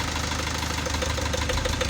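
A car engine idles steadily at close range while connected to a Launch X-431 Pro3 scan tool for diagnosis, giving a continuous low rumble with an even, slightly knocking pulse and no talking.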